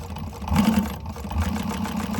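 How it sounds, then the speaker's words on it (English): A domestic sewing machine fitted with a needle positioner runs under light foot-pedal pressure, giving a steady, close whirring motor hum with a slightly rising, even stitching rhythm and no talk over it. "I just give the slightest little pressure on my foot pedal, and it's going a little faster than it usually does."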